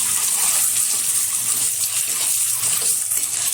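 Peeled, slit boiled eggs dusted with turmeric fry in hot oil, giving a steady, loud, close sizzling hiss with no voices.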